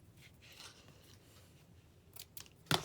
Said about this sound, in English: Go snip.